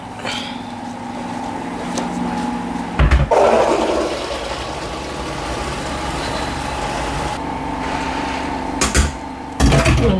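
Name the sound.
water running while washing beans in a sieve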